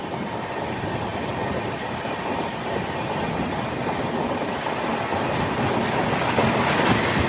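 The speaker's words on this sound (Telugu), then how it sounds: "వచ్చేస్తుంది అండమాన్ ఎక్స్ప్రెస్." Andaman Express passenger train rolling past on the Katra to Chennai Central route, a steady loud rumble of wagons and wheels with faint clickety-clack over rails, continuous throughout with no talk.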